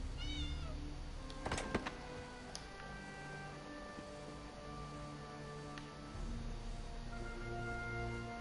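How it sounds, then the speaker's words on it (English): A cat meows several times in Elder Scrolls Online on PS4, a short cluster of mid-level cries near the start over steady game ambience and soft background music. "Oh, kitty cat."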